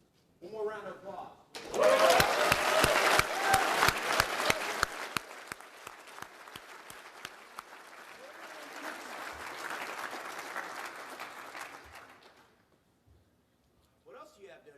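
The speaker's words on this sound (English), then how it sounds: "One more round of applause." Luncheon audience applauding at an Army recognition event, loud sustained clapping that starts sharply and slowly fades over about ten seconds, with a voice briefly before and after.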